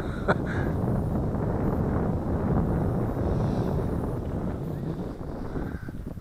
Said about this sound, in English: It's fighting that wind, and I got a very strong wind here.